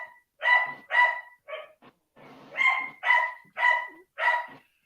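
A dog barks next door in a repeated series of about eight sharp, mid-distance barks with short pauses between them, heard clearly with no talking.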